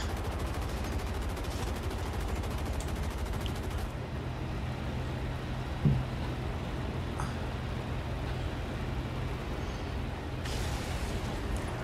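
Aircraft machine guns and cannon fire in War Thunder as rapid bursts over a steady engine drone, with a sharper single report midway and a loud burst near the end.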